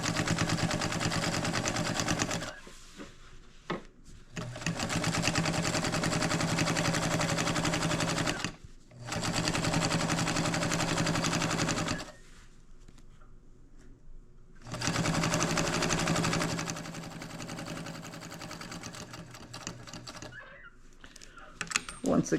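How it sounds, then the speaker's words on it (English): Bursts of a home sewing machine stitch across the bottom of a lined coloring bag. Three runs of a few seconds each are broken by brief pauses for pivoting, then a softer stretch follows. "I'm going to pivot by lifting my presser foot, leaving the needle in the fabric, and I'm going to sew across the bottom"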